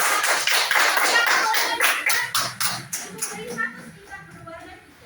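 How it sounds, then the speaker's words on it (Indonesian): Elementary school classroom children clapping together, a loud burst of many hands that breaks into a few rhythmic claps and fades out over a few seconds. "Tepuk tangan untuk"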